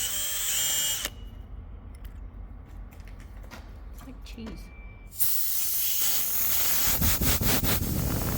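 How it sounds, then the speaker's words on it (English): A power drill bores out retaining compound from a hole in a seized hydraulic cylinder to free the balls. A loud, hissing whir runs at first, drops to quieter scraping and clicks, then surges again near the end. "I'm going to drill that out to get the balls out"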